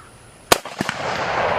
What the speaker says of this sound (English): Let me go ahead and send some lead downrange from this